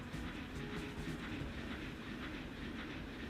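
A Shinkansen bullet train runs at speed in the Transport Fever 2 video game, a steady loud rolling rumble with faint rhythmic clatter and hiss, continuous throughout with no voices.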